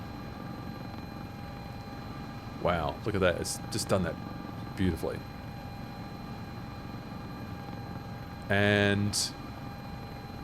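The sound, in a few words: S-76 helicopter in video game MSFS 2024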